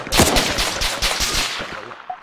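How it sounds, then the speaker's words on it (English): AKM rifle fire in a video game: a rapid burst of loud, sharp shots in quick succession, then a few scattered echoing reports fading out, with no voices. "he's shooting at me"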